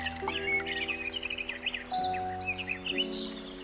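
Birds chirp and twitter continuously over a sustained, droning musical tone, the calls bright and busy throughout.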